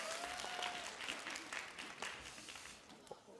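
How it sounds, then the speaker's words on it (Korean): A church youth-group gathering breaks into applause before the sermon. The clapping is soft and fairly distant, a steady patter of many hands lasting a few seconds, with a faint voice briefly audible beneath it. "박수."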